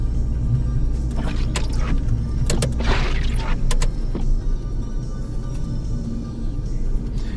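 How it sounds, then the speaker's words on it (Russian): Steady low engine rumble from a front-wheel-drive Lada Granta automatic driving through soft snow, constant and close, with a few brief knocks and scrapes along the way. "передний привод Гранта у нас, в принципе, клиренс позволяет тоже ехать вот по такому мягкому снегу"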